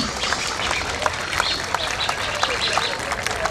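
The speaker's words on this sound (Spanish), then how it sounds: "Quiero pedir un fuerte aplauso para todos ustedes" Audience applause at a Peruvian fashion week show, dense and fairly loud clapping with scattered sharper claps and some crowd noise mixed in, continuous throughout.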